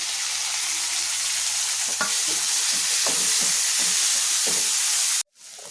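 Onion, carrot and tomato sauté in a pan, a loud, even sizzle with soft rhythmic scrapes of stirring, cutting off abruptly near the end; no voices.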